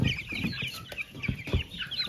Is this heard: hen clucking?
yes